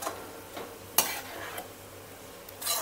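Dark jaggery filling for kozhukattai gets stirred in a pan over a slow flame, soft scrapes and a few light clinks of the spoon against metal sounding quietly and intermittently.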